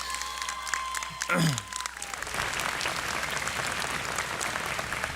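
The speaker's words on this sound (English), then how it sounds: "Let's give them a round of applause, yes." Audience applause at a high school graduation ceremony, a steady broadband wash of many hands clapping that swells after a brief spoken moment at the start and continues evenly to the end.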